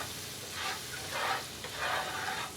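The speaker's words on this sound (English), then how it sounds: "we're going to throw our butter and brown sugar mixture in here, right into the pan" Butter and brown sugar sizzle in a hot pan as they are stirred, a soft steady crackle swelling in a few gentle surges of scraping and bubbling, close and fairly quiet.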